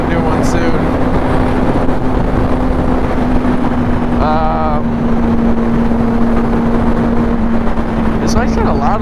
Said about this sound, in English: This bike's kind of loud on the freeway.